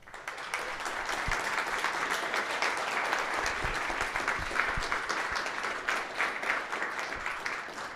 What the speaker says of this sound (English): I wanted to give a huge round of applause to our host, the Home Key